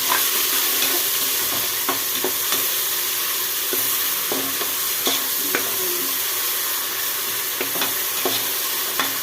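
Ginger garlic paste and green chilli fry in hot oil for chicken biryani, a loud continuous sizzle with faint stirring scrapes and occasional clicks, no talking.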